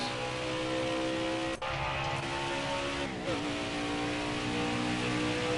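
A NASCAR stock car in the NASCAR Heat 4 video game revs and climbs through its gears, a loud steady engine drone with brief dips at each shift and harmonic whine rising after them.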